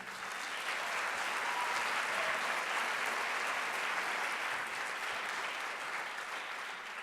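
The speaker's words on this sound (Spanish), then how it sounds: "un aplauso para Joseph." An audience at a speaking event applauds a speaker, a steady, even wash of many hands clapping that holds for several seconds at moderate loudness.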